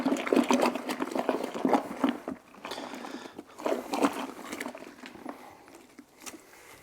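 A hand swishes and stirs cleaning solution into water in a 2-cup Pyrex measuring cup, mixing it up for a Lake Country System 4000 pad washer; close, wet splashing and sloshing comes in uneven bursts, with no talking.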